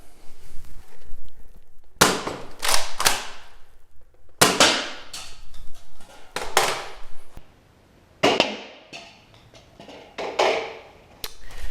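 A Nerf blaster fires a string of sharp, close snaps, roughly eight shots at an irregular pace, with quiet gaps between them.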